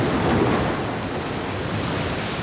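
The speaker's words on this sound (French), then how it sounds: "Celle du vent qui souffle en rafale." Gusting wind and sea waves on the New Zealand coast, a dense continuous roar of surf and wind that stays loud and broad throughout with no voices.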